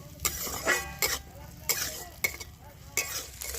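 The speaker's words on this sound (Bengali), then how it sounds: "এবার আমি এই তেলের মধ্যে দিয়ে দেবো কুচানো পেঁয়াজ এবার এই পেঁয়াজটাকে একটু হালকা করে ভেজে নেব" Chopped onions frying in hot oil, a steady sizzle broken by repeated scraping stirs of a spatula against the pan at a fairly even rhythm, close up.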